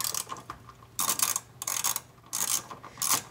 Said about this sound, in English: we're under here taking out this second set of bolts here.